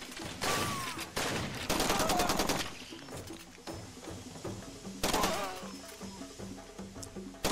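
Bursts of automatic gunfire from a Far Cry 2 firefight, heavy volleys starting and stopping in clusters over continuous game ambience, loud and close with rapid repeated shots.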